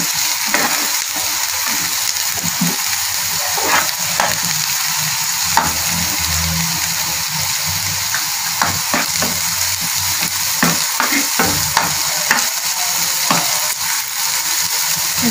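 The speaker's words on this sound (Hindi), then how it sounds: "अब इसमें अदरक लहसुन का पेस्ट शामिल कर दें। इसको हल्का सा फ्राई कर लें।" Ginger garlic paste and onion frying in a pan for chicken spring rolls, a steady close sizzle with stirring scrapes and clicks running throughout, no voices.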